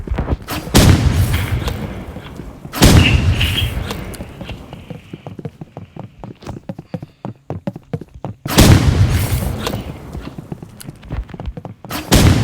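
Loud booming sniper gunshots from the video game Rivals, a few heavy blasts with long rumbling decay between them, plus lighter clicks and rattles in the gaps.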